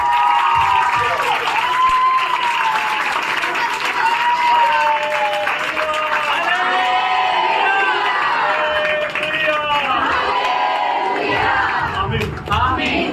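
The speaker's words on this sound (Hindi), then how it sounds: "जोरदार ताली, जोरदार ताली।" Church congregation at a bishop's anniversary celebration applauding loudly and continuously, with cheering voices and shouts rising over the clapping.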